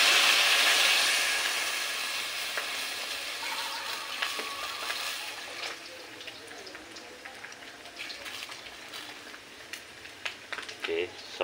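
Steady sizzling and crackling of food frying in a pan, loudest at first and then settling into a softer hiss with scattered pops.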